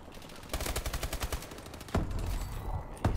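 Rapid automatic gunfire in the video game Call of Duty: Advanced Warfare, with a fast burst of evenly spaced shots followed by heavier blasts and a final shot at moderate loudness.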